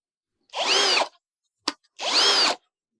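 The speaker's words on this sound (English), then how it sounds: "Now I'm going to switch to that 1/8 inch drill bit." A power drill fitted with a 1/8 inch bit bores vent holes in plastic sap buckets, two whining bursts of about half a second each, separated by a brief click, close and loud.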